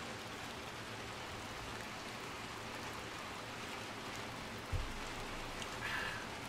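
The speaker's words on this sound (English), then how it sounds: "just appreciating the sound of the rain." Steady rain hisses evenly, with a soft dull thump partway through and no voices, in the video game Little Nightmares 2.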